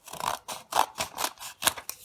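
Scissors snip through thick folded paper in about seven crisp, rhythmic cuts, each a short close rasping crunch with brief pauses between, heard alone without talk.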